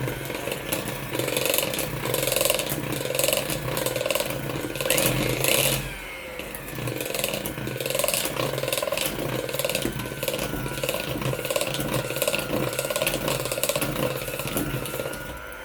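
An electric mixer on low speed beats creamy vanilla cake batter made with margarine or butter, giving a steady close whirring drone with a short dip in the middle and no voices.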